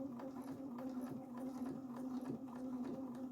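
A sewing machine with a heavier 90 needle and lengthened stitch runs steadily along the edge of a fabric sink skirt, a quiet continuous mechanical whir with fast rhythmic stitching pulses, close by, no talking.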